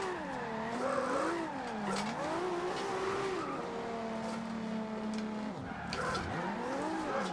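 A car drifts after a jump in Forza Horizon 2: the engine revs and wails through rising and falling pitch sweeps, then bogs down and climbs again, with a steady tire hiss under it and no talking.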